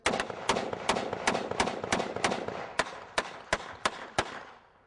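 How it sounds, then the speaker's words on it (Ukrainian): A ceremonial rifle volley salute: rapid sharp gunshot cracks fired in quick succession, then spacing out into single shots, distant and echoing. "На знак пошани стріляють сальвами з рушниць."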